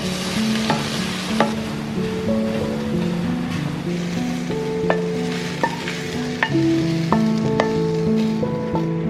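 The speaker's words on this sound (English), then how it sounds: "I love to add a little salt and pepper on my eggs too while they're" Eggs frying in a pan give a steady, close sizzle with light stirring, heard alongside a continuous backdrop of melodic background music with no talking.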